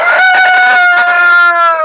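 A red rooster in a free-ranging barnyard flock crows one long, loud, close call with strong harmonics, holding steady for nearly two seconds with no talk over it.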